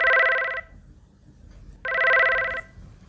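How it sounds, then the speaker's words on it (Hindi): A telephone rings in two long electronic bursts separated by a short pause, loud and close and heard alone. "तभी जॉन के पास एक फ़ोन आता है।"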